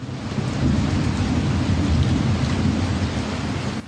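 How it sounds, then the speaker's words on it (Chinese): Heavy rain pours steadily in Kaohsiung during a southwest-airflow storm, a dense continuous hiss with low thunder rumbling beneath it throughout, close and loud, with no voices. "雨插插落，雷公弹甲隆隆叫"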